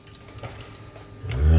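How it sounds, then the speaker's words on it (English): Hot water is poured into a large cup, a short splashing stream that grows louder and deeper toward the end as the cup fills. "I'm gonna start it off with hot water."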